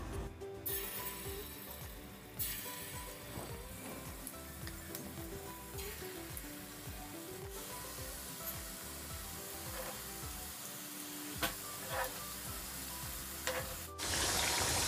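Singhara flour pakoras fry in hot ghee in a kadhai, giving a steady, fairly soft sizzle with occasional scraping and stirring clatter, and no talking.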